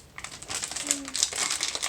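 A large plastic bag, a Disney Store Easter item, is pulled open with dense, continuous crinkling and rustling close by, steady through the whole moment.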